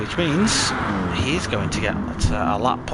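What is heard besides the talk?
No everyday noise stands out behind the speech.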